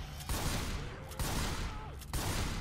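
Bursts of gunfire in Left 4 Dead 2, three loud shot clusters roughly a second apart over a dense low rumble, with no talking.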